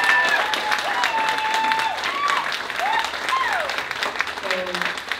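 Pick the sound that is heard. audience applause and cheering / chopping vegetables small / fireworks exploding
audience applause and cheering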